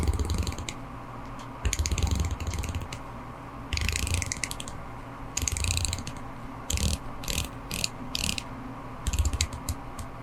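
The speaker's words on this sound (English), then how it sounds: "Now let's go ahead and see how this bezel performs." Crisp, close ratcheting clicks from the rotating bezel of a Seiko Prospex SLA081 60th Anniversary dive watch on a titanium case, coming in quick bursts of several clicks with short pauses between turns.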